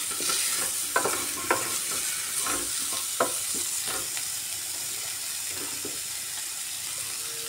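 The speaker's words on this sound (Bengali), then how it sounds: "এবার ভালো করে নাড়িয়ে নিয়ে কুমড়োর সাথে সব মশলাগুলো মিক্সড করে নিচ্ছি।" Spices being stirred into pumpkin and prawn curry in a pan, giving a soft, continuous sizzle with intermittent spatula scrapes and taps, and no voices.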